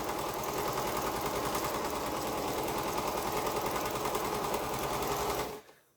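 A sewing machine runs steadily at a fast, even rhythm while stitching a quilt block, a close, continuous mechanical whir that stops abruptly near the end.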